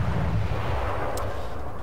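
Naval guns fire in World of Warships: a deep, rumbling boom dominates the start and decays into a low roar, with a brief sharp crack near the middle.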